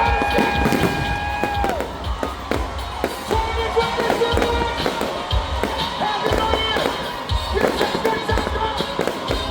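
New Year's Eve fireworks at a resort gala in Bohol, Philippines: a dense run of loud, sharp bangs and crackles keeps going throughout, over a busy crowd with people talking and cheering.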